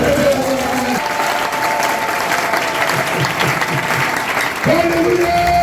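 A congregation in a church service applauds loudly and continuously, with dense crowd clapping and cheering, and a voice rising above it at the start and again near the end.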